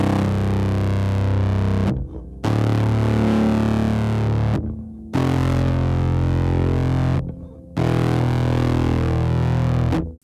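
An electric guitar runs through a Bat Sim pedal combined with a Poly Flat 5 fuzz and rings out in three long, heavily distorted strummed chords separated by short gaps. The tone is loud, dense and up close.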